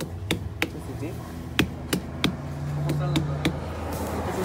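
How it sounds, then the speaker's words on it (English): Hand slapping fruit to test ripeness, a series of sharp hollow smacks at an uneven pace, close by, with a low hum and a brief voice in the background. "When you slap it, it's supposed to sound like it's deep."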